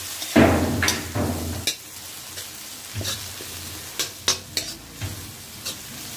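Tomatoes and green chilli frying in a pan for chicken liver curry, a sizzling burst followed by spaced scraping stirs and clanks of a spoon against the pan, close and fairly loud.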